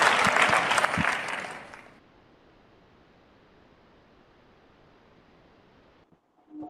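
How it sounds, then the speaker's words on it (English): Audience applause at an award ceremony for an author summit, a loud burst of clapping for about two seconds that fades out, followed by a long stretch of quiet room tone and a brief voice at the very end. "applause for Devatarita"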